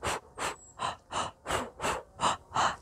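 Rhythmic breathing used while running, paced two counts in and two counts out, heard as eight evenly spaced, close breaths alternating inhale and exhale with no talking.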